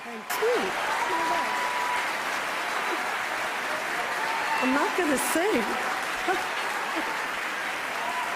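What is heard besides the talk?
standing ovation applause at Golden Globe Awards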